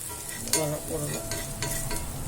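Carrot, chili and moong dal cooking in a pan, a steady close sizzle with stirring scrapes and soft clinks, no voices.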